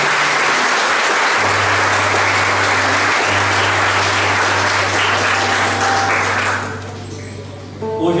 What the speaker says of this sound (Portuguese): Vamos aplaudir o Evangelho de Jesus.